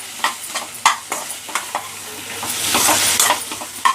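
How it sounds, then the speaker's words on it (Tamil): Chilli prawn sauce sizzles close in a pan, with a utensil stirring and scraping in repeated soft taps over a steady frying hiss. "இப்போ இது நல்லா ஃப்ரை ஆகிடுச்சு."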